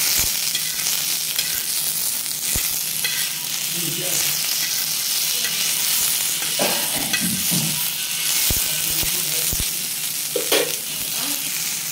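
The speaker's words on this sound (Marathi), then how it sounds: "तर 1 मिनिटभर आपण आता टोमॅटो पण छान परतून घेतलेले आहेत।" Tomato pieces sauté in a hot pan for misal, a continuous close sizzle and frying crackle with occasional stirring scrapes and knocks, no voice.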